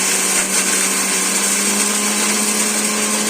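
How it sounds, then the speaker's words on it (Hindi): Electric kitchen grinder whirring steadily while grinding whole spices for a chicken masala, a loud, continuous high-pitched motor drone with no break. "ये मसाले पीस रहे हैं"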